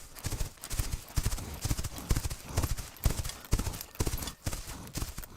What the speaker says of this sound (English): the final round is going to be a galloping horse